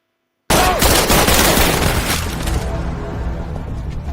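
Gunfire in a film scene where police officers shoot at one another, a loud rapid burst of shots that begins suddenly after brief silence and then fades into a rumbling tail.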